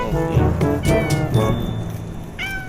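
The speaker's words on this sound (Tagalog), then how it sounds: "may pusa din dito" A cat meows several times close by, in drawn-out rising and falling cries, with a last short meow after a pause.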